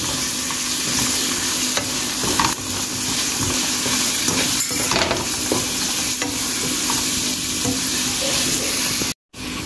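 Potato greens with turmeric and salt fry in a pan, a steady close sizzle with occasional stirring scrapes and clinks running throughout, with a brief dropout near the end.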